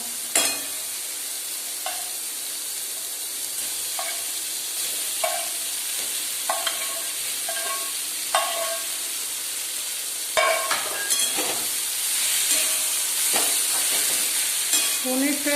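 Baby corn and spices frying in a pan for palak paneer, a loud continuous sizzle broken by repeated scraping stirs of a spatula.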